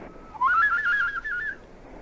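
A single sliding whistle call used as a signal, rising then wavering in pitch for about a second, clear and fairly close against a quiet background.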